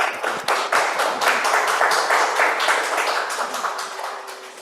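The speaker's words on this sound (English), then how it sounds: "All right, let's clap for them." An audience at a telesurgery conference session gives a steady round of applause lasting several seconds, dense and close, tapering slightly at the end.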